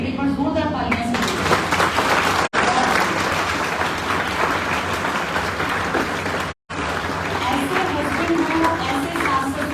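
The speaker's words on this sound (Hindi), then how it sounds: "उनके लिए एक बार जोरदार तालियां" Loud, sustained applause from an audience at a coaching institute gathering fills the room, broken by two brief silent cuts, with crowd noise and voices mixed into the clapping.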